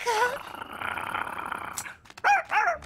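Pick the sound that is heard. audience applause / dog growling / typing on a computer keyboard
dog growling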